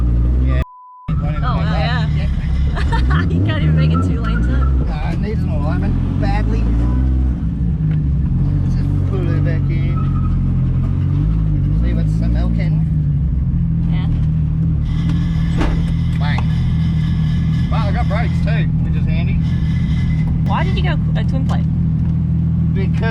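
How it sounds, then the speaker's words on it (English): A car engine rumbles loudly and steadily, rising and falling as it revs, with people talking over it throughout. "Still loud as ever. Oh yeah, you gotta have loud cars."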